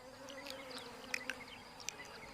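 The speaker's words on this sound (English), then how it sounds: "A Rhopalidia wasp is tiny, less than ½ an inch long." A tiny Rhopalidia wasp, under half an inch long, buzzes in a steady low drone with a few sharp brief accents, heard close and alone in the wild.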